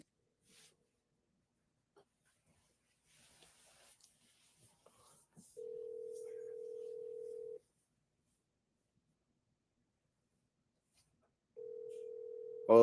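A phone call to a friend ringing out: two long, steady ringback tones separated by a pause, with faint clicks and rustles before the first ring, clear and close as if through a handset speaker.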